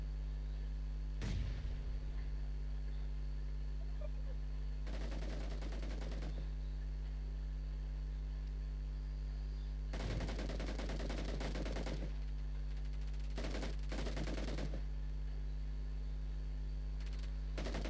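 Bursts of video game gunfire from a sniper rifle in Minecraft, with loud shots and rapid crackling volleys separated by stretches of steady background hum, no voices.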